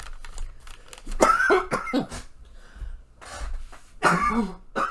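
Several harsh coughs close to the mic, a cluster of quick ones followed by two more spaced-out bursts, with some throat clearing and breathing.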